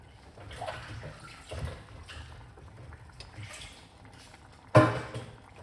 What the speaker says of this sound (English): I'll go if I pour off some of this water.